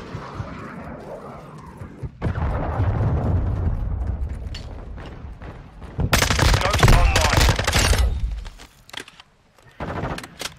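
Explosions and heavy gunfire from a cruise missile strike in a Call of Duty Modern Warfare 2 multiplayer match on PS5, loud rumbling blasts that swell near the middle and tail off, with some talk underneath.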